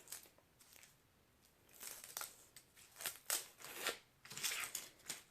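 Skin is peeled off a vegetable on a cutting board, giving faint, close crinkling and tearing sounds in short irregular bursts.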